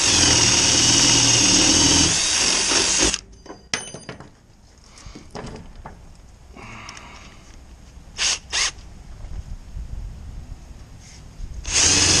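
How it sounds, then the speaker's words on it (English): A power drill bores through material on a soft wash trailer build, a loud sustained whine for about three seconds, then stops, followed by clicks, handling noises and two short bursts of drilling before a final run at the end. "All right, so I've got these holes drilled"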